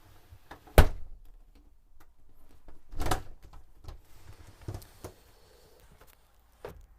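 A sliding bathroom door in a Chausson 650 camper van thumps and rolls, with a sharp knock followed by a longer sliding rumble and a few lighter clicks.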